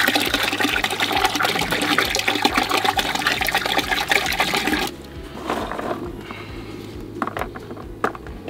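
Water poured from a field source into a bucket, a steady loud gushing splash that eases into softer, uneven trickling and dribbling toward the end.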